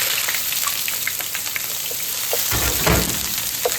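Onion dropped into hot oil for Brazilian empanada filling, a dense continuous sizzle with crackling pops, swelling louder near the end as more goes into the pan; no talking.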